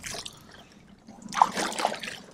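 Tap water runs and trickles as hands are washed, a steady close splashing stream that swells louder halfway through, at a fishing trip's catch-and-cook stop.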